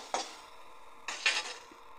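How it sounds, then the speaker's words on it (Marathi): Okra seeds roasting in a pan, with two short bursts of stirring and scraping against the metal over a faint, steady sizzle. "त्याला चांगला खरपूस असा कलर येईपर्यंत भाजून घेऊ."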